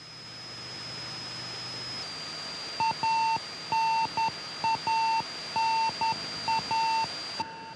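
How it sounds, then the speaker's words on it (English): Short electronic beeps sound in groups over a faint steady hiss, a repeating pattern of paired tones from a Soyuz spacecraft's radio beacon during its return to Earth from the International Space Station. "the sound you hear is a radio beacon signal that is being received from the Soyuz"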